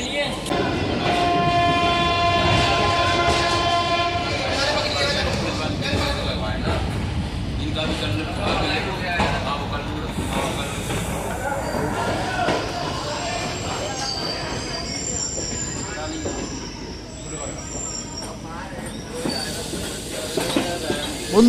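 The Ranikhet Express pulls out of Kathgodam station on its run to Delhi, with a loud sustained rumble, a long tonal horn or whistle early on, and later high wheel squeals, while a voice talks throughout.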